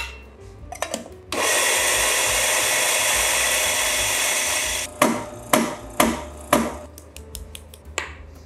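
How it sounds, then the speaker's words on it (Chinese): A Ditting coffee grinder set to grind size 8 grinding Guatemalan coffee beans, giving a loud, steady whirring roar for about three and a half seconds, followed by a series of sharp clicks and taps. "那使用的磨豆机是 Ditting"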